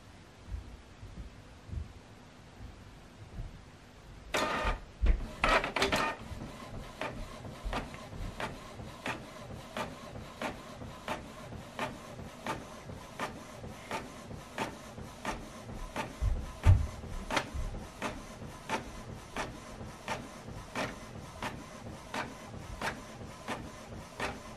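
A printer prints a document on both sides automatically: a burst of loud mechanical clatter as it starts, then a long run of steady, evenly spaced clicks and whirs from the paper feed.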